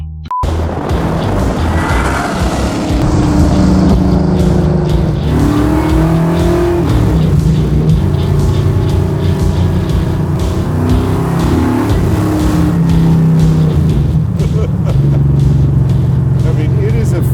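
A 1969 Chevelle with a 632 cubic inch big block Chevy crate engine, heard from inside as a deep, loud engine roar rising and falling through several rev climbs. Someone speaks over the engine noise.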